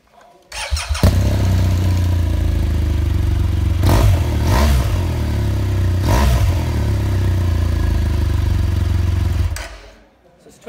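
A 2013 BMW R1200GS TE Alpine motorcycle engine fires up and settles into a loud, steady idle, with two sharp throttle blips midway before the engine is cut and falls silent.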